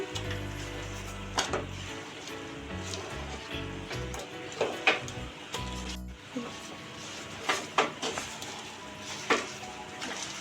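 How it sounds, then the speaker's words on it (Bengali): Fried jibhe goja dough pieces stirred with sugar in a pan over low heat, irregular scrapes and sharp clinks of a utensil against the metal, close and moderately loud. "দেখুন আমি অনবরত নেড়ে চেড়ে চিনির সঙ্গে মিশিয়ে নিচ্ছি"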